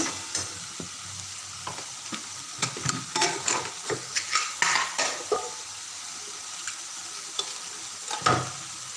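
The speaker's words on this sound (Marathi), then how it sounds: "आपला मसाल्याला कडाला तेल सुटायला लागलेलं आहे" Masala frying in oil in a pan, a steady close sizzle broken by repeated scraping and stirring taps of a utensil against the pan, busiest in the middle, with a louder knock near the end.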